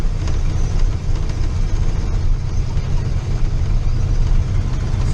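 A big old truck engine runs loud and steady in a high gear, a continuous deep rumble that stays close and unbroken throughout with no talking.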